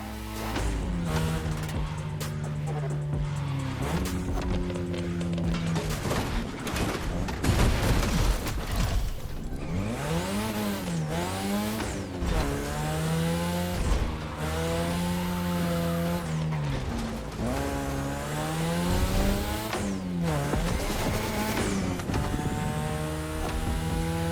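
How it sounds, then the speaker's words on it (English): A 2002 third-generation Mazda RX-7 with a rotary engine in The Crew Motorfest racing game, loud and close, revving hard through repeated rising and falling gear shifts with tire squeal and skidding, no voices. "Your ride is a 3rd Gen 2002 Mazda RX-7."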